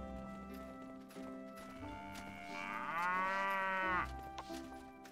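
Cattle mooing in the medieval trading game Die Gilde 3, a single long, drawn-out moo rising and holding for about a second over background game sounds and soft clip-clop, with no speech.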